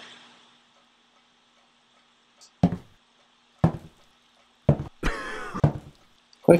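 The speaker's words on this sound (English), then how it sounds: "Quit coughing." A video-game character coughs in several short, sharp bursts spaced about a second apart, with one longer, rougher fit near the end. Each burst sounds close and stands alone against a near-silent background.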